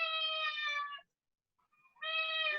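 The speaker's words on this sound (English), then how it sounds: "I'm sorry, my cat's here." A cat meows twice at close range, two clear, tonal cries separated by a second of silence, with no other sound.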